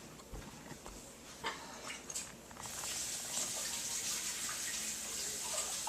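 Running water from a kitchen tap rinses measuring cups coated with ketchup and honey, starting after a few light clatters and then flowing as a steady close hiss for the last few seconds, with no talking.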